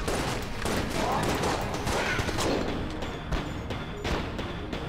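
Dense, nonstop gunfire from Enter the Gungeon with linked bullets: rapid shots stack into a loud, crackling barrage that carries on throughout, with a few sharper bursts near the end.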